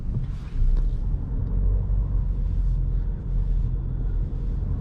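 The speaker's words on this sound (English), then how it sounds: "Going into drive and starting our night drive around the city." Steady low rumble of a Peugeot GT Line car cruising through city streets at night, heard from inside the cabin as a continuous road and engine drone with no talking.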